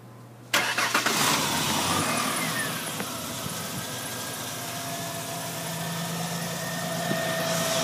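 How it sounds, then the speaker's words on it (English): A 2002 Ford Explorer with the 4.0-liter single overhead cam V6 cranks and fires after a short silence, then settles into a steady, close idle with a low continuous hum for the remaining seconds. "All right, Jeremy, crank it up."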